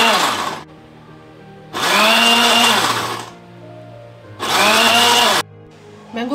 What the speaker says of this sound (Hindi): अब इन चीज़ों का जो है वो सबसे पहले हम ब्लेंडर में डालते हैं।